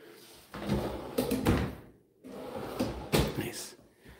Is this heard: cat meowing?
no